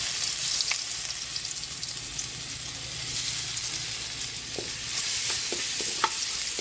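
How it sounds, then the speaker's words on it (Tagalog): Garlic fries in fat rendered from pork, giving a loud, dense, continuous sizzle. A few soft stirring clicks sound near the end, and no one speaks. "Para dyan tayo magigisa ng bawang at sibuyas"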